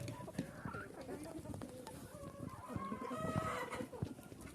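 Hens and roosters cluck and murmur close by, several birds calling irregularly with a faint rooster call among them.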